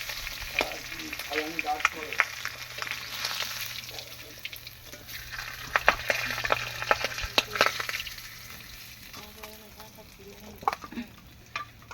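Spices crackle and splutter in hot oil in a pan on a stove, a steady close sizzle broken by sharp pops and occasional stirring, with no one talking.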